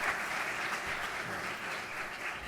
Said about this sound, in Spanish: Denle un aplauso a ellos